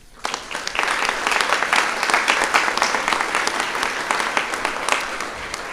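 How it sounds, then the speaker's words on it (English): A round of applause from the audience at an awards forum, dense continuous clapping that rises quickly and holds steady for several seconds, close and loud. "So give all of those team members a round of applause."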